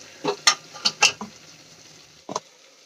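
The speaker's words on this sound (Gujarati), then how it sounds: "અને વચ્ચે વચ્ચે આ રીતે હલાવતા રહેવાનું, જેથી કરીને નીચે ગ્રેવી આપણી ચોંટવા ન લાગે" Onions sautéing in a pan for a stuffed onion curry are stirred with a utensil, producing a handful of short scraping clinks in quick succession, then a pause and one more double scrape.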